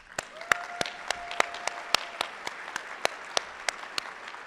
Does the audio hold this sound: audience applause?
yes